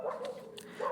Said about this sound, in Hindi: पीछे से थोड़ी सी कुत्तों के भौंकने की आवाज़ आ रही होगी